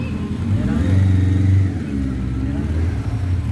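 A 750 cc motorcycle, formerly a police bike, revs up nearby at a Temerloh flea market, its engine rising to a strong steady drone and then settling back to a lower idle. Crowd chatter and talk run underneath.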